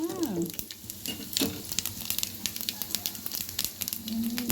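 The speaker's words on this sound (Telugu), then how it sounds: "నూనె వేసుకొని కొంచెం పోపు దినుసులు వేసుకొని కాస్త అవి అలా అలా వేగాక" Tempering spices fry in hot oil, giving a low sizzle with frequent small crackles and pops at close range.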